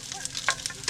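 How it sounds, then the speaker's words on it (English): Brief crackling sizzle of chicken burrito filling in a hot frying pan, with a few soft scraping stir sounds; no talking. "Starting to sizzle."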